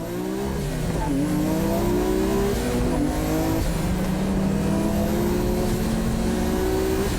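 A Tsuchiya-driven MCR race car, rated around 600 horsepower, runs close behind Arito's Mazda RX-7, engines droning and rising in pitch together, loud and continuous throughout.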